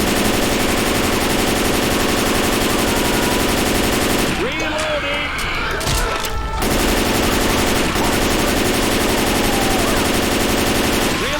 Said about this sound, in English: Just unload an entire magazine into him.